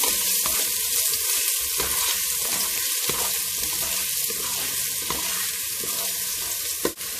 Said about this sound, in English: Add our onions. And cook this until it's nice